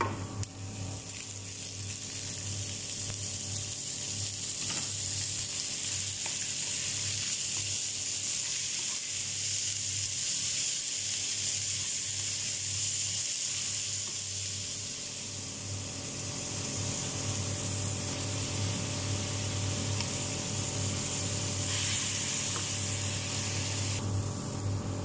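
Ground meat browning in a pan for sambosa, giving a continuous close sizzle and crackling hiss over a low steady hum, with occasional faint stirring.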